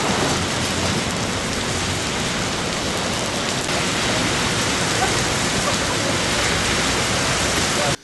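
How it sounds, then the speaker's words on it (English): Steady, loud rain falls outdoors, a continuous dense hiss with no letup and no talking. "Are you sitting in the rain right now?"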